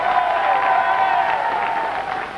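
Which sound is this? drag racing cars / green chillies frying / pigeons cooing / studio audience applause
studio audience applause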